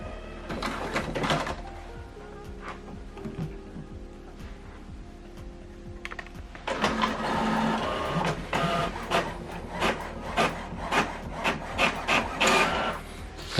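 An HP Officejet printer runs through a print job, giving bursts of mechanical whirring, rasping paper feed and rhythmic clicking. The sound is close and moderately loud, with a quieter hum between bursts and no talking.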